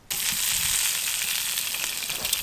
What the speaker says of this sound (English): Gonna give our sausages a little bit more color.